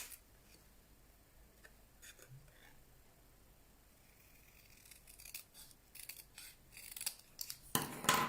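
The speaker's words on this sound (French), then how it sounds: "je coupe au ras ici de mon texte" Scissors snip through paper, trimming a handmade greeting card close around its printed text, with quiet scattered cuts at first that build into louder, quicker snips near the end.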